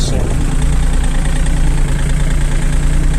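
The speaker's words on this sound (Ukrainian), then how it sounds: "зупиняємо, піднімаємо і газуємо далі" A New Holland 40 tractor engine runs loud and steady at high revs, a continuous low rumbling drone with a brief rise at the start, close up with no speech.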